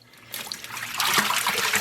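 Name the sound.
filling a container with water for yarn dyeing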